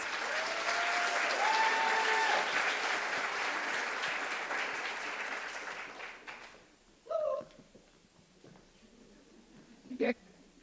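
Audience applause welcoming the Fort Worth STEAM Academy pitch team at a business plan competition finals, sustained broadband clapping for about six seconds that fades out, followed by a few brief isolated sounds.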